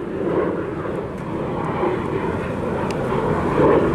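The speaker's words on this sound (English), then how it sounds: "there's a plane right over me." A fixed-wing airplane passes directly overhead beside a shuttered electronics store in Raleigh, NC, its broad engine roar steady and loud throughout, swelling slightly near the end, with no one talking.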